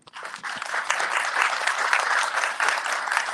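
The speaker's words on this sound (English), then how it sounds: "I want you guys to give them a big applause because they worked really, really hard to get this together." Audience applause at a gathering honouring a team, a dense steady wash of many hands clapping that swells quickly and holds at a fairly loud level throughout.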